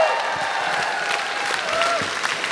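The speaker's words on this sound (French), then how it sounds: "on applaudit, on donne du son!" A drag gong show audience in Quebec applauding, a continuous moderate round of clapping with a brief whistle near the end.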